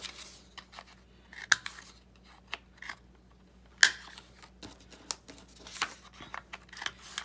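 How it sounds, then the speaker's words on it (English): A corner rounder punch snips the corners of 6x6 inch paper pieces, giving sharp, isolated clicks at irregular intervals, with a few louder crisp snaps standing out against quiet background. "So I'm gonna go through and real quick snip these."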